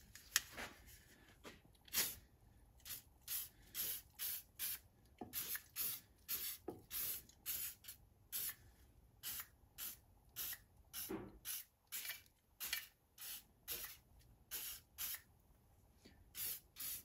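A spray can fitted with a straw nozzle hisses in repeated short bursts onto a neglected Mity Kat bulldozer, the spurts coming close and steady with brief gaps, plus a faint high whine throughout.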